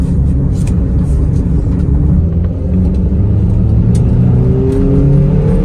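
A 1999 Toyota Camry with a 2.2L four-cylinder, just repaired for a misfire with new spark plug wires, drives along with a steady, loud engine and road rumble that rises slowly as it accelerates.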